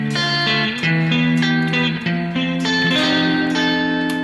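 An electric guitar plays through a spring reverb emulation in a distant, less upfront setting, sounding a quick sequence of sustained chords and notes that ring and wash together, fairly loud with no talking.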